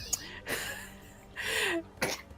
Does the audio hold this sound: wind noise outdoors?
no